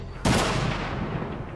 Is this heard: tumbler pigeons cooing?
no